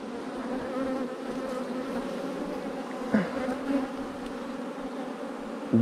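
Honey bees drone in a steady, dense buzz over an open hive during a beekeeping inspection, close and continuous. A few soft knocks and handling sounds break in, with no talking.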